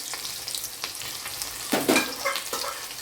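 Sliced onion and two dried red chillies fry in hot oil for an avaraikai sambar, giving a steady close crackling sizzle with louder spitting bursts partway through and light stirring, with no voices.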